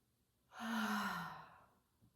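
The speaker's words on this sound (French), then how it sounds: "J'inspire par le nez et j'expire par la bouche." A single soft exhale through the mouth during chair yoga breathing, close and quiet, a smooth breathy sigh lasting about a second.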